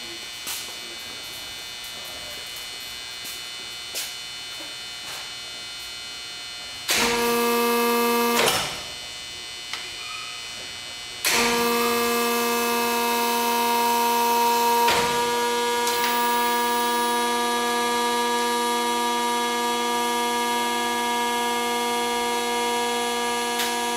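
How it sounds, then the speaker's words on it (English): 225-ton Wabash hydraulic press cycling through pressing, decompressing and opening: steady electric hum and whine with tonal shifts, short louder bursts as the hydraulics switch over, then a sustained higher drone. "it will switch over after it times out for 30 seconds to the full tonnage, 225 tons. And then it'll decompress and open."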